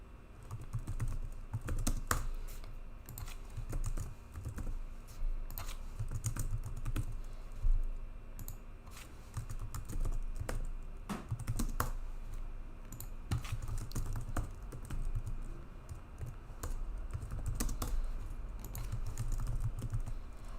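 Steady typing on a computer keyboard, dense quiet key clicks running continuously at close range with small pauses, no voices present.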